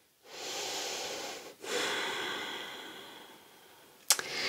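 Deep, slow breathing during a yoga session: a long drawn-in breath followed by a longer, steady exhale, close and fairly soft, ending with a brief sharp click.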